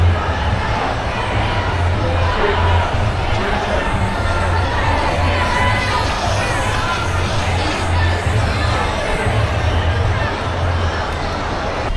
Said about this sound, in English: out there in the streets in 5th Avenue, it's filled with protesters still